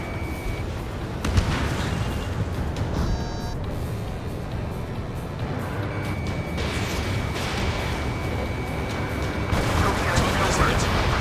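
A missile launches in the jet combat game Ace Combat 7 Skies Unknown, a dense roaring whoosh over continuous engine and battle noise, with a brief beeping tone and radio chatter mixed in.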